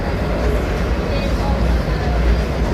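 A MEDHA AC local train runs between Borivali and Virar, giving a steady, loud rumble of wheels and carriage noise throughout.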